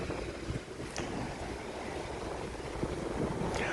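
Steady wind roars past the microphone by the ocean on a morning walk along Waikiki, a broad continuous rush with faint surf mixed in and occasional gusty bursts.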